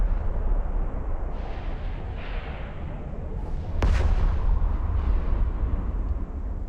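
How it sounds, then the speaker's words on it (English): A large explosion in the EVE Online space game, a deep rumbling blast with a sharp crack midway, sustained booming roar before and after, loud with no talk. "Let me just wait for this explosion to go."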